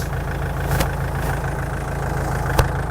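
An SP7015 TRX stump cutter idles with a steady, loud low engine rumble and drone, close by, broken by a couple of brief clicks or knocks.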